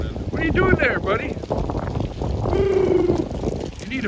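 Wind gusting outdoors on a blustery day around peacocks, a steady low rumble buffeting the microphone throughout, with loud bird calls rising over it.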